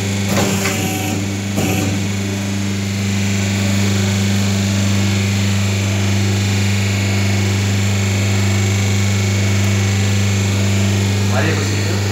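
A paper plate making machine for square and round plates runs with a loud, steady motor hum and a constant mechanical drone, with a few brief clatters near the start and end and someone talking over it.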